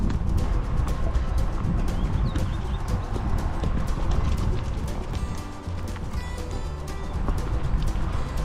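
Horse hooves clip-clop steadily during a horseback ride, a continuous rhythmic patter of hoofbeats with creaking tack and faint background noise.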